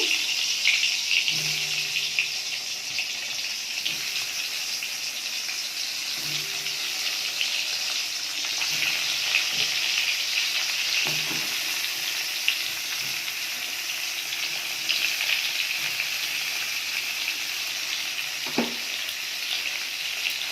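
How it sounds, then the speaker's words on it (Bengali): Pointed gourd frying in hot oil, a continuous bright sizzle lasting the whole stretch, with occasional low knocks from cookware in the background. "কড়াইতে তেল গরম হয়ে গেছে আর পটলগুলো দিয়ে দিচ্ছি।"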